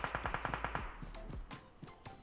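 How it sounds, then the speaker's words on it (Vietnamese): Automatic gunfire in the mobile battle-royale game PUBG Mobile: a fast, even burst of about eight shots, then a few scattered single reports with no voices. "tôi nghe tiếng súng là ở trên này"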